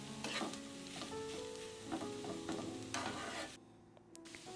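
Mashed potatoes fry in a pan with oil as a sandwich filling, giving a close, steady sizzle with soft stirring scrapes and knocks that stop abruptly near the end.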